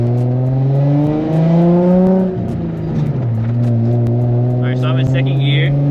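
A Nissan 350Z engine pulling hard in second gear, heard loud and close from inside the car, its note climbing steadily, dipping at a shift or lift, then droning on at a lower steady pitch.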